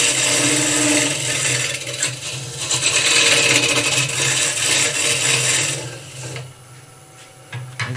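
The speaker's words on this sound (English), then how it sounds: "once you apply a bit of cutter to the wood, these shavings come away" A cutting tool shaves and scrapes across wood during hand carving, a steady loud rasping scrape running for about six seconds before easing off, with scattered small knocks near the end.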